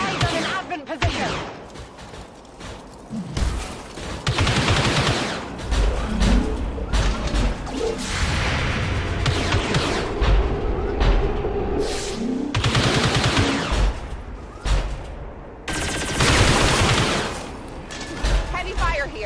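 Heavy gunfire crackles through a battle in SW-Com, an XCOM mod, with bursts of automatic fire and crashing impacts that come in loud waves, pausing briefly between volleys as voices talk over the fighting.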